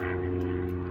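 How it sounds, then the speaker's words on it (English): An airplane passes somewhere overhead, a brief, steady droning hum with a tonal engine buzz, heard alone. "Now there's an airplane flying somewhere overhead."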